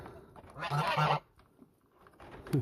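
Toulouse geese give two close, nasal honks, then a further short honk at the end, fairly near and moderately loud in a quiet coop setting.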